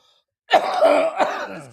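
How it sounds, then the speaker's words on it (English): A person coughs right after laughing, two close, raspy bursts close to the mic that trail off into a breathy tail. "You know you can't make me laugh like that. Makes you cough."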